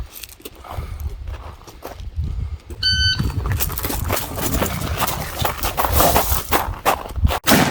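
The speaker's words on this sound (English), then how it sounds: "running with all this kit is extra special because everything's banging around" Footsteps thud as someone runs carrying military kit during a rifle drill, with loose gear clattering and banging in an uneven rhythm, and a brief electronic beep near the start.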